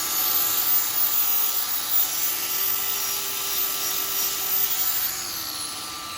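Sanding a yew bowl spinning on a wood lathe gives a steady, loud hiss of abrasive on wood over a faint motor whine, continuous and even, with no voices.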